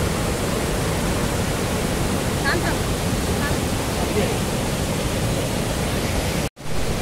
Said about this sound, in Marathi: बघा धबधबा आपल्या राजापूरचा धबधबा दूधपापेश्वर